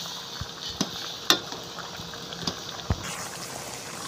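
Chicken curry stirred in a pot, soft bubbling liquid with scattered light clinks and scrapes of a utensil against the pot, fairly close and without talk.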